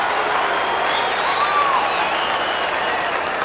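Ice hockey arena crowd at a 1988 Olympic USSR versus USA game roaring and clapping steadily, loud and continuous wash of noise with a faint whistle-like tone, as fans call for a penalty.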